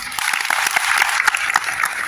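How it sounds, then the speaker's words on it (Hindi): Seminar audience in Kolkata clapping for themselves, a dense, steady burst of many hands filling the room at close range, with a faint voice underneath. "तो खुद के लिए एक बार ताली बजा दें"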